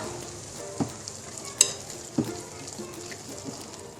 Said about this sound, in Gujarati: હવે આપણે સરસ રીતે મિક્સ કરી દઈશું હજી એકવાર